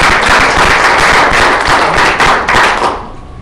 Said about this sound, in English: So congratulations, round of applause.